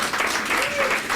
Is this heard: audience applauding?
yes